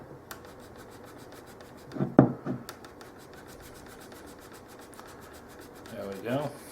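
A spatula working under an acoustic guitar bridge during repair, with soft rubbing and scraping over a faint steady ticking, a short burst of firmer scraping in the middle and another rasp near the end, close up.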